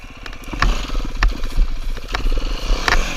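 A dirt bike engine revs in short bursts during a pivot turn with the clutch pulled in, a loud close burbling idle punctuated by several sharp throttle blips.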